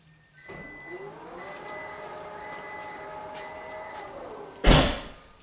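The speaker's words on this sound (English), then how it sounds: "hopefully you heard the alarm and the door closing" A 2023 Volvo XC90 power tailgate sounds a repeating warning tone while the motor hums it closed, ending with a firm thud of the door shutting.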